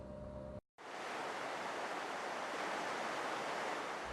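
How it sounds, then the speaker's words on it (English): Steady broadband rush of the Pecos River flowing near Brush Ranch, a continuous water sound that fills the clip after a brief moment of silence, with no voices. "The Pecos River and its soothing sound make for a postcard backdrop to the Brush Ranch"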